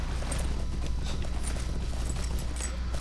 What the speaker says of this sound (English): So I'm gonna ride my horse.